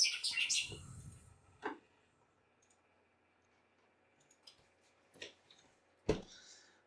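A bird gives an odd, electronic-sounding song reminiscent of a dial-up modem: a bright, buzzy burst at first, then sparse sharp clicks and chirps spaced seconds apart over faint background hiss.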